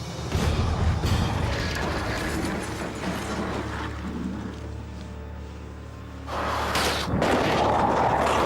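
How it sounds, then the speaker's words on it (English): A remotely driven Vauxhall Astra strikes a road sign post head-on at 65 miles an hour, a loud sustained roar of engine and rushing motion with rumbling, then a fresh surge of crunching noise near the end. "Vauxhall Astra, which we're going to crash head-on into the post at 65 miles an hour"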